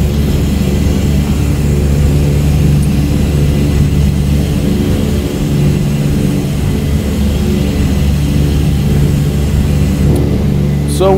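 Twin piston engines of a DC-3 airliner in cruise flight in a flight simulator, a loud, steady droning hum with a constant low throb that stays unchanged throughout.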